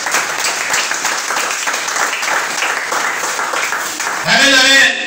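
A church congregation claps and acclaims in a dense, continuous wash of applause; near the end a voice rises over it, singing or calling out loudly.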